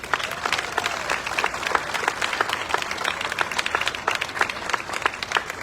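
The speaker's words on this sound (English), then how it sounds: "a big round of applause." Audience clapping at the Jackson Apple Festival Red Coat Club presentation: steady, dense applause with sharp individual claps standing out throughout, no talking.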